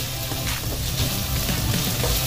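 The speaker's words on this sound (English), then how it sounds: "so gigisa lang natin to for about a minute or two. Ayan, so habang naluluto yung ating tomato" Chopped tomato sautés in a hot pan, giving a steady close sizzle and crackle of frying with faint stirring, no voices present.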